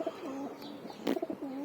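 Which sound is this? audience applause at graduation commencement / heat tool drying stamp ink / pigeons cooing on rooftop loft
pigeons cooing on rooftop loft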